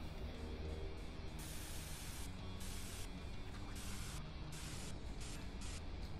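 Spray paint can hissing in the video game Happy Humble Burger Farm, a continuous airy spray broken into several short bursts and pauses, fairly close and steady.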